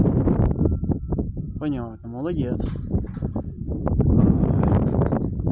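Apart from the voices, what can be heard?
strong wind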